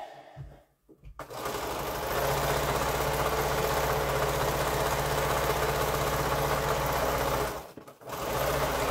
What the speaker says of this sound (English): And then I'll sew down that one.